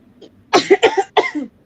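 A person coughs three times in quick succession, loud and close, after a brief quiet moment.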